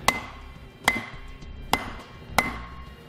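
Four sharp, evenly spaced hammer blows strike a block of wood to drive a bearing seal into a trailer brake hub, with a Kodiak disc brake kit on a 2018 Grand Design Momentum fifth wheel; close and loud with no talk.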